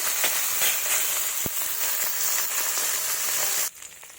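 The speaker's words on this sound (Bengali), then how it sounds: "এই পিঠটা আমি ভালোভাবে লাল লাল করে ভেজে নেব" Small fish fry in oil in a kadai, giving a steady, close broadband sizzle with an occasional sharp pop before the sound drops away at the end.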